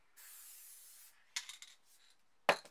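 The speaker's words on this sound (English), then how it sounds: "spray on the spare piece so you can see it" A Montana Black spray paint can with a skinny cap sprays a line onto a spare piece as one steady, close hiss lasting about a second, followed by light rubbing and clicking handling noises and a sharp tap.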